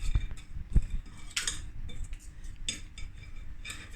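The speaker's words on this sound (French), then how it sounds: "On va fouetter, c'est mieux." Pastry cream being whisked in a bowl for a strawberry tart, with scattered metallic clinks and scrapes of the whisk against the bowl, a couple of sharper knocks near the start.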